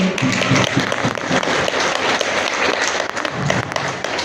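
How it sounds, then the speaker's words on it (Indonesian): Audience applause at a parenting seminar, a dense, steady wash of many hands clapping at once, loud and close, holding level for several seconds without talk. "Beri tepuk tangan untuk pemateri kita yang sangat hebat pada sore hari ini"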